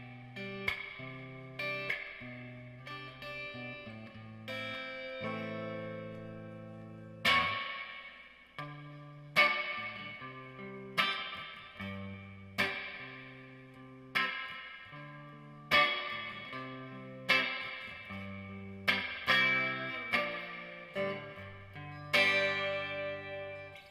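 Single guitar notes and chords ring through a Peavey amplifier's reverb, each struck sharply and then washing out in a long smooth tail, repeated in a steady phrase at moderate volume with no voices.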